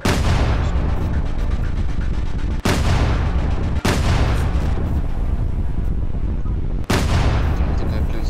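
Loud, continuous gunfire and booming blasts in the Roblox naval combat game Royal Navy Combat, with dense, sustained crackling and rumbling broken by a few sharp cuts.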